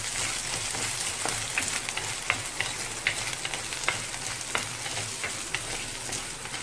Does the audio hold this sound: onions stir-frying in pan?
yes